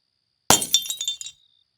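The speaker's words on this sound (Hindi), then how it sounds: "अचानक हॉल की तरफ से कांच टूटने की आवाज आई।" A lamp topples and its glass shatters in one sharp crash, followed by a short scatter of tinkling shards settling over about a second, loud and close in an otherwise silent room at night.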